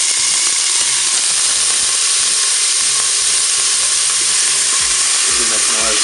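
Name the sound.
onions frying in hot oil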